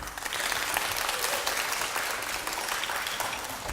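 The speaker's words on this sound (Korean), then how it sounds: "큰 박수 주세요." Audience applause fills a hall at a children's composition recital, a steady, dense clapping from many hands that stays even and moderately loud for a few seconds.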